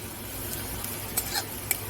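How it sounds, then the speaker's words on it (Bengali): Onions and chopped green chillies fry in a pan for a fish ball masala, giving a steady, soft sizzle with a few light stirring scrapes and clinks and no talking. "পেঁয়াজটা ভাজা ভাজা হয়ে এসেছে, আমি লঙ্কার কুচোগুলো দিয়ে দেব।"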